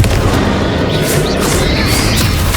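A Confringo blasting curse explodes in Hogwarts Legacy, giving a loud, rumbling burst of crackling blast noise that stays close and sustained for a couple of seconds.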